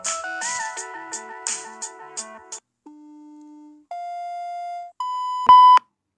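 Speaker test tones play from a Samsung Galaxy M32 5G phone: a quick run of chiming melodic beeps, then several long steady pure tones at rising pitches, loud and clean with no talking.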